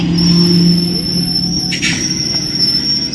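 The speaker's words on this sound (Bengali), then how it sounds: "তো দেখো আমাদের ট্রেন এসে থামলো" A passenger train arrives and stops at Lakshmipur station near Nabadwip. Loud wheel and brake squeal and a sustained metallic screech ride over a rumbling hum, with a brief hiss partway through and no voices.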